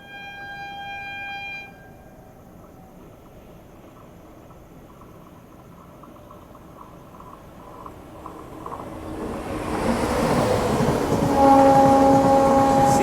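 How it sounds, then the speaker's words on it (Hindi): Rajdhani Express train overtaking the Chennai Rajdhani Express, heard from aboard: a quiet interior rumble swells into a loud rushing roar of the passing train, with a brief horn-like tone near the end. "Rajdhani overtaking Chennai Rajdhani express."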